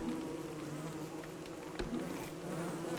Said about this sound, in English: we're gonna get more hostile bees that are just chilling everywhere